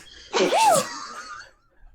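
A single loud, close sneeze bursting out and trailing into a brief breathy tail, heard alone during a tabletop role-playing game session.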